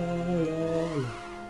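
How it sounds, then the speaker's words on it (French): A short synthesized dragon cry from Final Fantasy V, a wavering tone that glides downward and fades within about a second. "C'est le cri du dragon."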